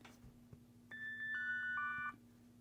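A phone sounding a melodic electronic ringtone, set off by the phone finder of a G-Shock GBM-2100 watch, a short rising sequence of clear tones heard from nearby over a faint low hum, with no talk.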